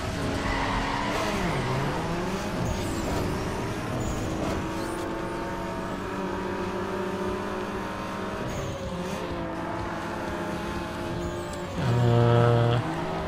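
Race cars in a Need for Speed Underground 2 circuit race roar with sustained engine drone and shifting revs, tires squealing through corners, and a loud skid burst near the end.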